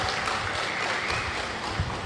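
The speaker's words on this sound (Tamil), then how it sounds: "இதுக்காக அம்பேத்கருக்கு கைத்தட்டுங்க" Audience clapping at a talk about Ambedkar, a dense, even patter of many hands held at a steady level for about two seconds.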